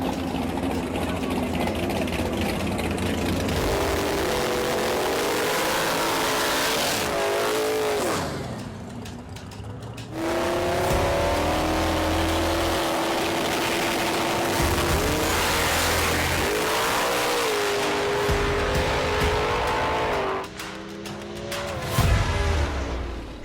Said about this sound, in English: Second race is Sherman in the Camaro versus Palmer in the Silver Mustang.